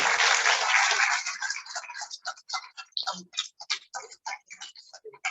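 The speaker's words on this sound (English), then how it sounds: "please a huge round of applause for them" An audience at a National Milk Day event claps, a dense burst of applause that thins into scattered, rhythmic individual claps fading over several seconds.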